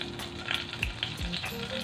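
Cumin seeds and asafoetida sizzling in hot oil, a close, continuous crackle with faint popping and a couple of brief low knocks.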